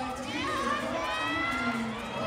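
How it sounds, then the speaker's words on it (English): Crowd at a roller derby bout in Alaska cheering and shouting, a dense continuous roar of many voices with excited yells rising above it throughout. "you can hear the crowd cheering for her"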